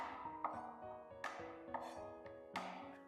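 A knife chopping flattened garlic cloves on a board, a few sharp, evenly spaced strikes over about three seconds, close and clear, with no talking.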